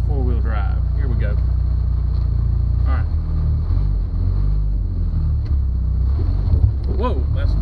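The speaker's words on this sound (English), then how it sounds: "Let's try the four-wheel drive, here we go." Old Jeep, bought for $499, driving slowly in four-wheel drive low, a steady close low engine rumble with wind buffeting, while people talk over it throughout.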